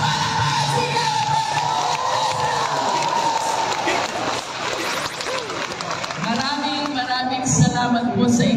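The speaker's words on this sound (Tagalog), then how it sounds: "Malakas sa palakpakan sigawan!" A crowd at a Batangas rally for Team Beatrix in Mabini applauds and shouts loudly, a dense, close roar of cheering and clapping with voices mixed in throughout.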